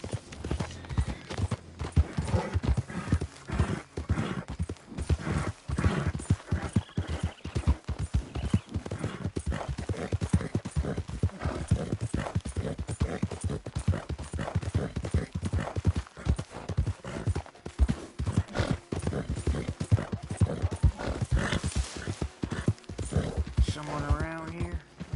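Horse hooves galloping in Red Dead Redemption 2, a fast, steady clip-clop rhythm that runs loud and close throughout, with a brief whinny and a little game speech near the end.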